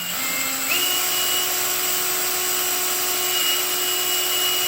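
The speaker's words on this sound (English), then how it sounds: "Drill this one up." A power drill with a dull bit bores a hole for a Fire N Ice Matryx vent install, its motor spinning up in pitch and then holding a steady, continuous whine, close and alone.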